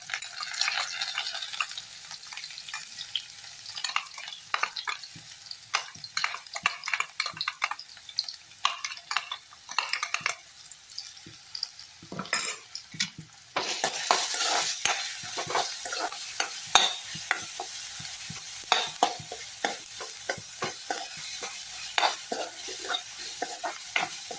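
Starfruit chutney ingredients fry in oil while being stirred, giving a soft sizzle broken by frequent scraping and clinking of a utensil against the pan, growing louder partway through.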